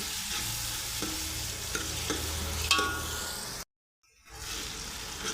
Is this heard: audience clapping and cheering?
no